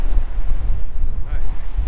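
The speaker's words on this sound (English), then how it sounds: "It's gusting and we're getting some mammoth waves crashing over the seawall." Strong storm gusts blow at a seawall during Storm Ciara with huge waves crashing over, heard as loud, buffeting low-frequency wind rumble across the microphone, continuous with surging peaks.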